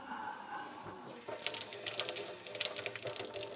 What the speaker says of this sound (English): You tap the thing, the water comes on.